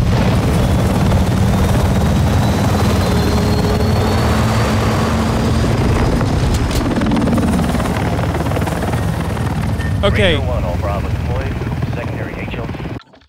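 A helicopter in the Call of Duty Modern Warfare II campaign roars loudly and continuously with a heavy rotor drone, briefly joined by a short spoken word near the end before it cuts off.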